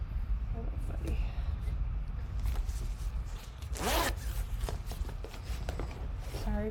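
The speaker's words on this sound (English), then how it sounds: "Sorry if you hear my zipper." A clothing zipper is pulled in one quick rasping zip partway through, close and fairly loud, amid soft rustling and handling noises.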